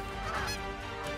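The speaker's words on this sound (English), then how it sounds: "Oh, here's some ducks." Honking calls of ducks and geese close by during a waterfowl hunt, a dense overlapping chorus of nasal honks filling the short moment without pause.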